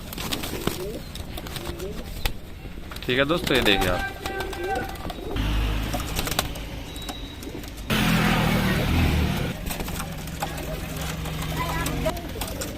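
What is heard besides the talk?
Rampuri pigeons cooing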